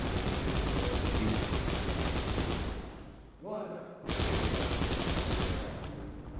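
Rapid sustained gunfire in a Warhammer 40k video game, loud dense bursts that break off briefly mid-clip and then resume at full intensity.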